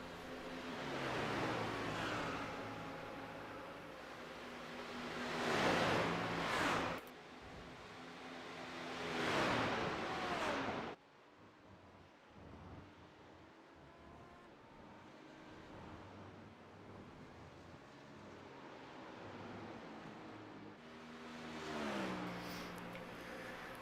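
Racing cars lap Watkins Glen in a virtual racing league video game, with high engine whines that rise and fall as cars pass. The engines are loud at first, drop back for several seconds, then swell again.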